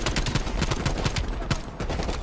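Dense, continuous gunfire from Call of Duty Cold War, rapid automatic bursts and overlapping shots packed together at steady loudness with no pauses, dominating throughout.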